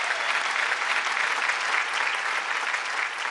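Loud, sustained applause rises from a television studio audience to welcome Mansi's husband Parthiv Gohil on a singing show, a dense even wash of clapping with no speech.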